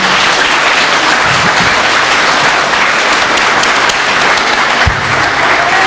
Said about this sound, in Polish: jeszcze raz gorące brawa